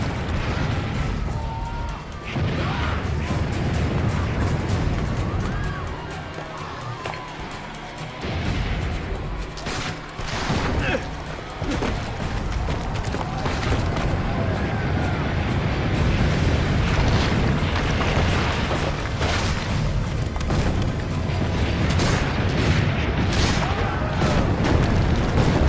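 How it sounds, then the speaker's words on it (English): Heavy booming blasts from cannons in the video game Assassin's Creed Brotherhood, recurring over a dense rumbling battle din, with some voices mixed in. "Load the cannon. Destroy their cannons, signore!"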